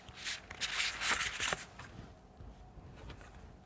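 Tarot cards being shuffled by hand: a burst of crisp riffling and flutter up front, then softer, quieter rustles as the deck settles.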